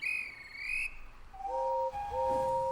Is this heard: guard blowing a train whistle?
yes